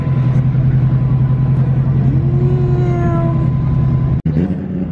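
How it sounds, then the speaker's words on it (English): A drag racing car's loud, steady engine drone holds throughout at the TX2K19 event, with a rising whine near the middle, then cuts out abruptly before settling to a lower rumble. "It might be a drag racing car."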